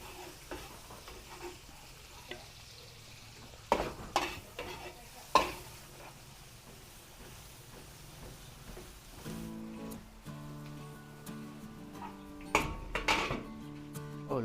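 Garlic and onions sauté in a pan for Filipino adobo at a pre-wedding cooking gathering, with quiet sizzling under scattered clanks and scrapes of a utensil against the pot, and a musical tone sounding in the background later.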